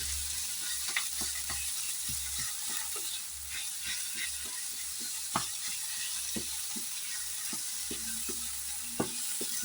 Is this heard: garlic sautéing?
yes